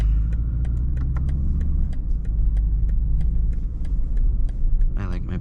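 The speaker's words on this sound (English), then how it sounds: "I like my blinker sound." A BMW 330i (G20) on new tires ticks its turn signal inside the cabin in a steady, quick, even rhythm of sharp clicks, close and clear over a low road rumble.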